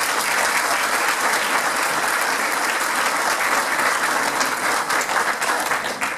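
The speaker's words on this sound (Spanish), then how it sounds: "sus aplausos para ellos." A crowd gives steady, dense applause for the teachers at a fiftieth-anniversary school reunion, loud and continuous throughout before easing slightly at the end.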